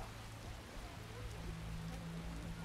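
Steady rain in The Witcher video game, a soft continuous hiss of drops falling on surfaces with a low rumbling undertone, quiet and unbroken throughout.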